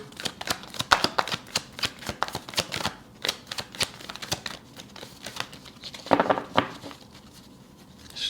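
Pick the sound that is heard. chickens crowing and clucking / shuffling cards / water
shuffling cards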